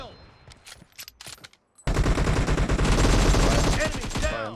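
Automatic gunfire in PUBG Mobile deathmatch play: a few scattered shots, a brief silence, then a loud, dense sustained burst of rapid fire close up.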